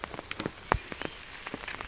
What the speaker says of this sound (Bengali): বৃষ্টি হচ্ছে কিন্তু হালকা হালকা